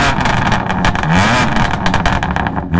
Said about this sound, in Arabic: هلا هي اللي عندنا عليها الاكزوست، اكرابوفيتش اكزوست، بتشوف هون الاكزوست عليها اكزوست افتر ماركت، فصوتها حتلاقوه يمكن شوي عالي